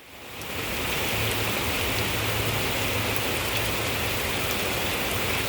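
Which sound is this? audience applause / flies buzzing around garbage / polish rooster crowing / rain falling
rain falling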